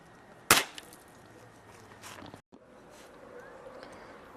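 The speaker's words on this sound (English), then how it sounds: "This is what a pellet rifle sounds like." A pellet rifle fires once, a single sharp crack near the start, followed by quiet background rustling and faint handling noise.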